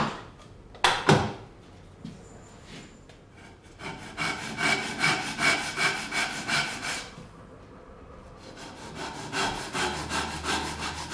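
Hand saw cutting wood for a Japanese double dovetail joint: a sharp knock, then a steady run of rapid back-and-forth rasping strokes, a brief pause and more sawing, close up with no voices.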